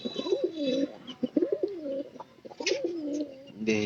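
Pigeons coo in repeated low, throaty rolling calls close by, several overlapping phrases with brief pauses between them.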